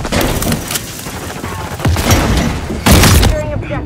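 Grenade blasts in Call of Duty: Modern Warfare 3 multiplayer, with two loud booming bursts, one near the middle and a heavier one near the end, over continuous gunfire and battle noise while voices call out.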